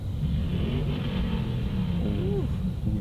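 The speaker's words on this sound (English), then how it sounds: "There's a little truck." A small truck rolls past on the Las Vegas Strip during a lowered-and-lifted truck cruise, a steady close engine rumble with some revving over constant street noise, while people chat nearby.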